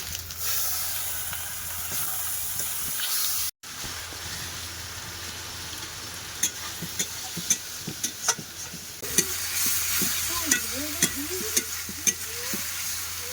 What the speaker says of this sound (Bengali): মশলাটা কিন্তু খুব সুন্দরভাবে কষাতে হবে